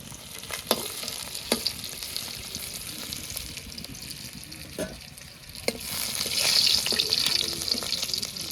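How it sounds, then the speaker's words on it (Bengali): Fish fries in hot oil in a home kitchen pan with a steady sizzle, punctuated by a few sharp clicks and knocks, and the frying grows louder and brighter toward the end. "মাছ ভাজা হয়ে গেছে"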